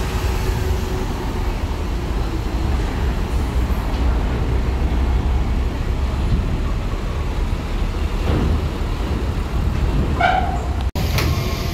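A Delima Seri Gemilang bus with an Avante body rolls past on the road, a steady broadband engine and tyre rumble that holds loud and close throughout, with a brief sharp clatter near the end.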